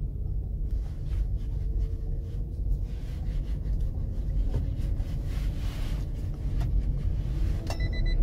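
A Toyota self-charging hybrid car pulling uphill at low speed: a steady, low interior road rumble with faint wind noise runs throughout, without talk.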